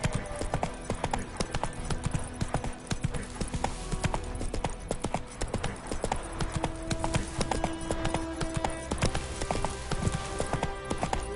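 Roach the horse clip-clops steadily across the ground in The Witcher 3, hoofbeats falling in a quick continuous rhythm at close range over a layered game soundscape.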